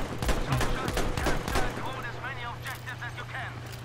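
Suppressing gunfire in the Battlefield 5 video game, a rapid burst of sharp shots in the first half that fades into quieter battle noise, with players talking over it.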